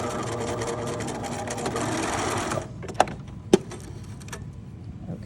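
A sewing machine stitches a shirt yoke in a fast, steady mechanical whir for about two and a half seconds, then stops, followed by a couple of sharp clicks and light handling noises.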